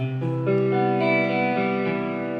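Sustained electric guitar chords through a Line 6 M13 chorus effect and amp cabinet, with a shimmering, wavering chorus, played clearly and fairly loud with no voices.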